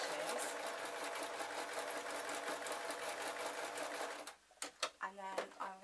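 A sewing machine stitches decoration onto a pillowcase baby outfit, running with a steady, fast mechanical whir for several seconds before stopping. A few soft clicks and handling sounds follow.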